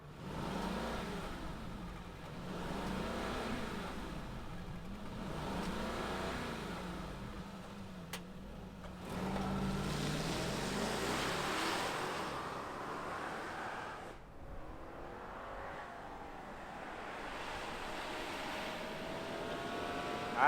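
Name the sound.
2022 Mercedes-Benz S580 engine starting and running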